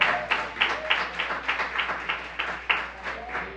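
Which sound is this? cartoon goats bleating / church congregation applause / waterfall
church congregation applause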